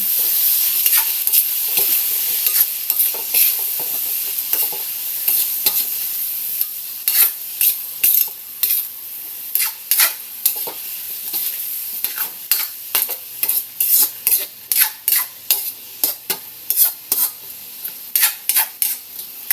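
Kamansi (breadfruit) dish with pepper, salt and seasoning being stirred in a pan, a steady sizzle under repeated scraping strokes of a spoon that grow more rhythmic and pronounced toward the end; no talking.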